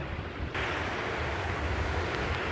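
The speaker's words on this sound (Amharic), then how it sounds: "ባይዘይ ወደዛ ጋር ውሃው ወደ ገደል እየገባ ነው።" A river swollen by the season's first rain pours down into a gorge. It makes a continuous, broad rushing roar close by that starts abruptly and holds steady, with no voices.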